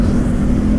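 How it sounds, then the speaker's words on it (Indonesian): A motorcycle with a loud aftermarket exhaust and a short rev limiter holds a deep, rumbling rev, close and continuous for under a second. "pakai motor kayak gini jadi pengennya ngegas kalau knalpotnya kenceng"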